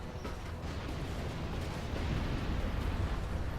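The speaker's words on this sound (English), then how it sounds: "Bit of a lick standoff here and a lot of nuke cannons" Nuke cannons fire in a strategy video game, a dense rumbling barrage of booming blasts that runs continuously and grows slightly louder toward the end.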